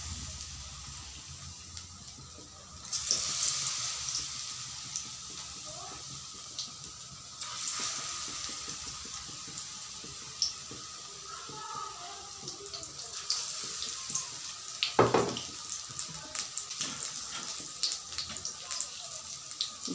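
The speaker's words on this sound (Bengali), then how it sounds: "তেল গরম হয়ে গেছে, এখন আমি ব্যাটারগুলোর মধ্যে ফুলকপিগুলোকে এভাবে ডুবিয়ে ডুবিয়ে ছেড়ে দিচ্ছি।" Cauliflower pakora dipped in batter frying in hot oil, a steady broadband sizzle with brief louder bursts as pieces go in, close and continuous with no talking.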